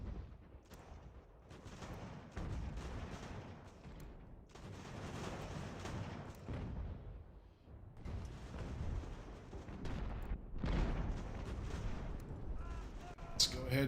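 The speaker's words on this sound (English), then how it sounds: "Let's get our artillery trained at the largest of these groups." Artillery booms and musket gunfire sound from a battle in the strategy game Ultimate General: American Revolution, coming in repeated rolling volleys of moderate loudness with brief lulls between them.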